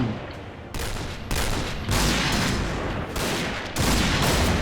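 Sustained volleys of gunfire from a video game match featuring the L115A1 sniper rifle, dense and loud, rising in steps across several bursts with no talk over them.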